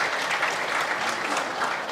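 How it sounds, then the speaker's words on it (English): Audience at a launch event for Ghana's National Rental Assistance Scheme breaks into dense, steady applause, a continuous wash of many hands clapping at close range. "Let's give him a round of applause."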